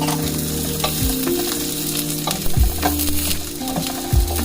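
Food fries in a pan for a Spanish dish, giving a loud, continuous close sizzle. A few soft low thumps and stirring knocks come from the pan, and no one speaks.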